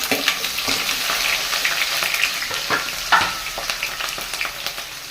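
Onions and green chillies fry in a hot pan for a fish curry tempering, giving a steady, close hiss of sizzling oil broken by brief scrapes and knocks of stirring, with no voices.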